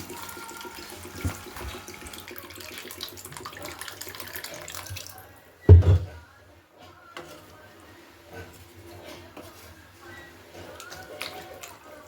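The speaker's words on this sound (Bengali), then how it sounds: "কিছু পরিমাণ জল দিয়ে ঝোলটিকে ফুটিয়ে নিতে হবে" Water is poured into a simmering pan of thin Bengali curry made with small charapona fish, heard as one short, loud splashing gush midway through, with quieter kitchen sounds before and after.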